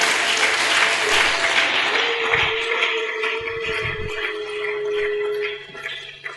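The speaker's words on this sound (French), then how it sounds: "Est-ce qu'on peut acclamer la parole de Dieu?" Church congregation applauding and clapping vigorously together, a dense, loud burst of claps that gradually thins and fades out toward the end, with faint voices underneath.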